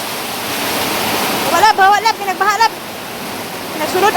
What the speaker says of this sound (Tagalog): Sulod ang tubig, guys.